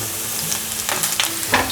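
Enoki mushrooms dropped into a pan with ginger slices set off a steady close sizzle, with a few louder spatula scrapes and crackles from stirring and no voices.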